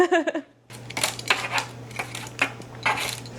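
Christmas crafts are flipped one by one on a metal oven tray in an old kitchen, making a series of light clinks and scrapes in quick bursts over a steady hum, with a brief voice at the very start.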